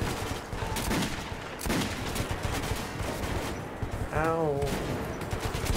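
Gunfire in Metro 2033, bursts of shots with sharp cracks amid a noisy, busy mix, close and loud, with a brief pained voice partway through.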